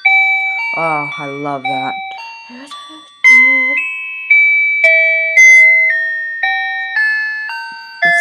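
A talking alarm clock built into a talking calculator plays the Beautiful Dreamer melody as a series of clear electronic beeping tones, loud and close, with a brief voice speaking early on.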